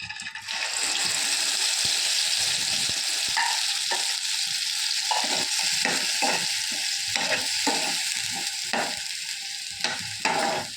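A freshly ground paste hits the hot tempering and is stirred, a loud, sustained hiss of frying punctuated by repeated scraping strokes of a spoon against the pan, with no voices.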